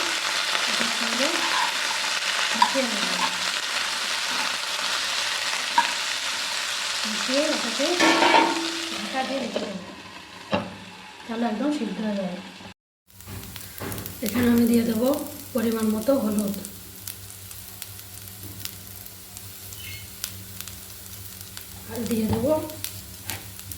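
Cut cauliflower stirred and frying in a pan with softened peas for a singara filling, a strong hissing sizzle at first, then quieter sizzling with occasional scrapes while a person talks over it.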